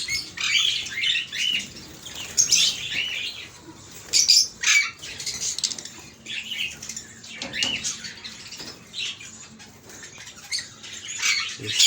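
Pet albino birds in a cage or aviary, with repeated bright chirps, squawks and wing flutters in irregular bursts, close by throughout.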